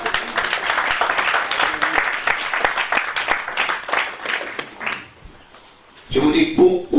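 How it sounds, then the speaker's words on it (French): Church congregation applauding in a loud burst of dense clapping for about five seconds, dropping to near silence before voices or a renewed loud burst break in at the end. "Applaudissez le Seigneur Jésus."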